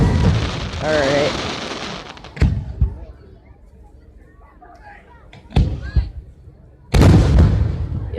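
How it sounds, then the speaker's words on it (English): Fireworks burst downtown in a few sharp, loud booms spaced a few seconds apart, with crackling tails and a noisy rush of street ambience between them; a voice briefly sounds early on. "random fireworks going off"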